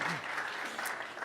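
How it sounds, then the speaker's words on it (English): Audience applause at the CES 2019 press conference for the Impossible Burger 2.0, a steady wash of many hands clapping that fills the whole moment at moderate loudness. "you want to give applause?"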